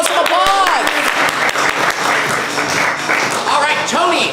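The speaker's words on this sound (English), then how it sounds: "Let's send Tony out with some applause." An improv comedy show crowd bursts into close, loud applause mixed with whoops and shouted cheers, with the clapping dipping briefly before surging again.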